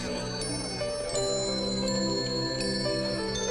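Bright bells ring in repeated clear strikes, several sharp tings every half second or so with long sustained shimmering tones over a soft background.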